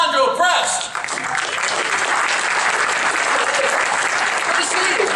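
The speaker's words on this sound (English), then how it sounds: "Please give a warm round of applause for Luca Bushkin and Alessandro Prest." A convention-hall audience at CES 2013 gives a warm, steady round of applause for two app inventors, with a brief voice at the start before the clapping continues evenly to the end.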